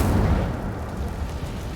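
A fire spell cast in Hogwarts Legacy bursts out as a dense, rumbling whoosh, sustained and loud for nearly two seconds with a crackling, booming low-end texture and no voices.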